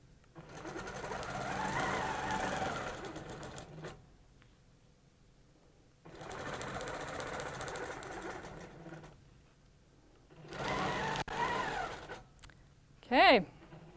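Sewing machine microquilting with a ruler, three bursts of rapid stitching separated by quiet pauses, close and distinct, with a short higher-pitched sound at the very end.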